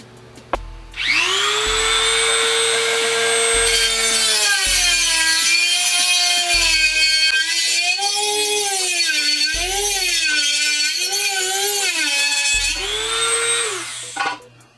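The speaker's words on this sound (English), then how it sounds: "I'm pretty sure I'm gonna have to take the Dremel and cut this" A Dremel rotary tool cuts a cold air intake for a Honda Civic, giving a loud, continuous high whine that rises and wavers as the load changes for about thirteen seconds, close by with no talking.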